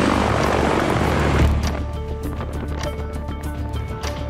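A CH-53E heavy-lift helicopter with seven main rotor blades drones loudly, a deep rumbling engine and rotor roar that shifts partway through into a pulsing, beating rotor chop mixed with turbine whine.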